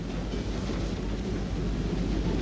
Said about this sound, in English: Here is Voight on board a runaway train that is hurtling across Alaska